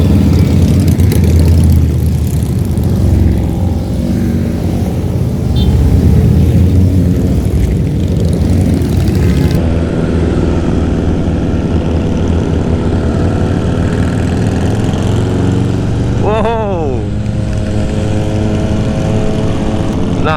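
Big motorcycles riding together in a group on a trip from Makassar to Barru, producing a loud, continuous engine drone with a wind-buffeted roar and a rising whine as another bike passes near the end.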